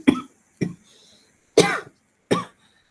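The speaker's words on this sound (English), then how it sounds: "because of my coughing" Four sharp coughs close to the microphone, spaced irregularly with short silences between them.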